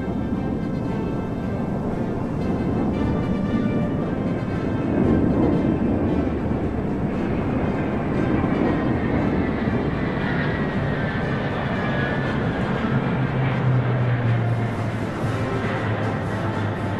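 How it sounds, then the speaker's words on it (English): A Y-20 large transport plane flying over a Chinese military parade, a continuous loud broadband engine roar that stays steady and close throughout, with no talk. "The Y-20 is a large-sized transport plane."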